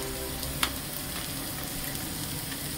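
Turmeric powder is stirred into hot oil in a frying pan while cooking takla greens, a steady close sizzle with a faint clink of the spoon at one moment.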